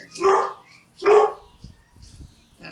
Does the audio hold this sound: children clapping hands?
no